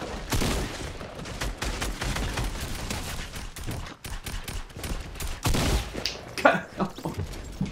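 Rapid automatic gunfire from a high fire-rate weapon in Fortnite, dense sustained bursts of shots with short gaps and a few sharper impacts, loud and continuous.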